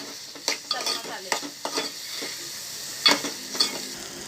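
Masala spices with a little yogurt cook in a pan for chicken bread-roll stuffing, giving a soft sizzle under repeated quick stirring scrapes, busier at first, then a lull before two final strokes.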